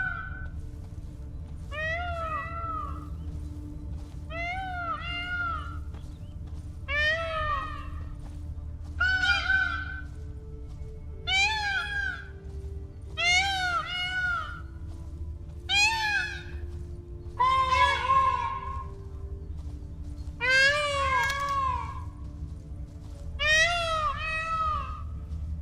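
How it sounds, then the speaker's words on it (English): Peacocks in the Witcher 3 video game give repeated shrill, wailing cat-like calls, about a dozen evenly spaced cries over a steady low background hum, fairly close and clear. "I know peacock sounded like a dying cat."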